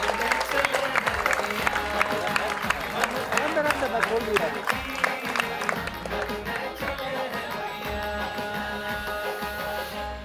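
A crowd at a film trailer launch event applauds for about ten seconds, rapid dense clapping layered with crowd noise, background music and a voice speaking over it.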